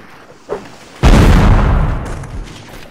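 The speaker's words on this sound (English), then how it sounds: "enemy cannon is not focusing on us anymore" Cannon fire in the game Mount & Blade: Blood and Iron, one heavy boom that hits hard and then rolls away over about two seconds, with a smaller thud just before it.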